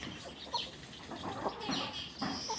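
A few farm chickens cluck softly in short, scattered bursts, faint and somewhat distant, with a quiet background and no one talking.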